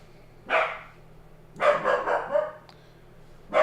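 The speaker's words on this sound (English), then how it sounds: "Max is barking." A dog named Max barks in three separate bursts, the middle one a rapid run of several barks, fairly close and clear against a quiet room with a low hum.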